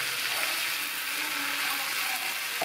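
Tomatoes frying in a pan over omena (small Lake Victoria fish) in a Kenyan wet-fry dish, giving a steady, close, moderately loud broadband sizzle with no talk.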